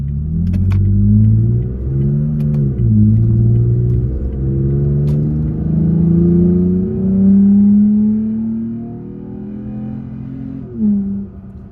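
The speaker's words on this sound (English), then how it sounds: "That is a throatier sound under acceleration." A Toyota Tacoma pickup with an aftermarket exhaust pulls away under acceleration, a loud, throaty low rumble heard from inside, rising through several gear changes with steady droning tone and no talk.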